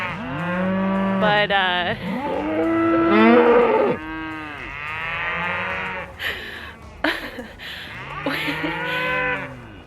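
A herd of cattle lows loudly and repeatedly at close range, long drawn-out moos overlapping one another, with a brief spoken word among them.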